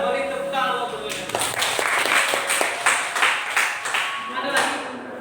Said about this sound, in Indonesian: Beri tepuk tangan untuk mereka.